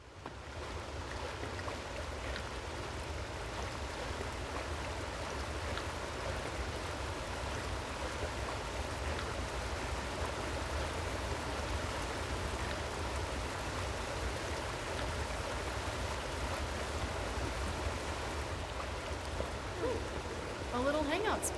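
A waterfall in the video game Creatures of Ava rushes with steady, broadband roaring water, constant and unbroken throughout, like a continuous close-by cascade.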